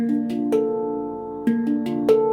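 A sustained metallic four-note handpan chord of ringing tones, with soft taps retriggering it at a few points, steady and close.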